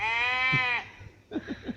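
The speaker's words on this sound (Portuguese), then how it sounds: "a gente só encontrava um monte de cabra pra todo lado" Goats bleat in a small Greek island town at night, with one long wavering call up close followed by a quick run of shorter bleats.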